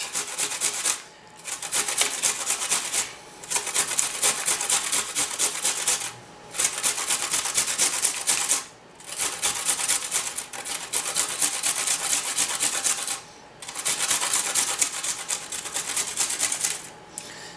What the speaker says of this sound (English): I'm going to grate a stalk of celery or two, depending on how much I get out of it.